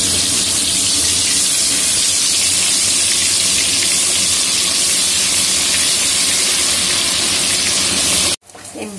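A ground paste of cumin, coriander and chili added to meat browning in a pot with fried onions, giving a loud, dense, continuous sizzle that cuts off abruptly near the end.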